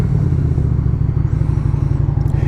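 A Lifan Lycan 250 motorcycle rumbles steadily on a winter ride, its low engine drone loud and continuous with some wind and clatter, no talking.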